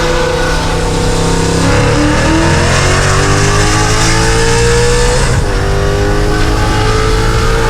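An 1100 horsepower Ford Mustang engine roars loudly at full throttle, revving up through the gears with rising pitch and a brief dip at a shift, recorded close from inside the car at night in downtown Los Angeles.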